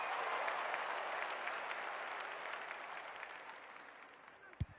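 Football crowd at a reserves-season match, round 7 against Casey, sustained applause and cheering across the whole stretch, loud at first and gradually fading, with a sharp thump near the end.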